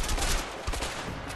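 Gunfire in the video game A Way Out, a quick burst of several sharp shots in rapid succession, loud and close within a second and a half.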